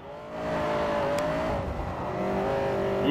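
A race car engine in Forza Horizon 4 revs hard and holds a loud, steady climbing drone, dipping briefly mid-pass before pulling up again, with a faint tire squeal near the end.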